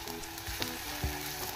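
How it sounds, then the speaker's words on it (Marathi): Onion fries in hot oil with a soft, steady sizzle, a couple of faint clinks of a stirring spoon breaking through. "नंतर यात कांदा टाकायचा आहे।"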